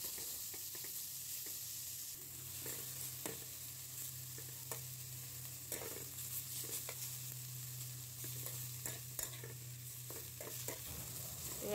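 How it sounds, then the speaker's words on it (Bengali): Boiled radish frying in hot oil, with a steady close sizzle and repeated scrapes of stirring throughout, no voices. "এখন তেলে ভালো করে ভেজে নিব"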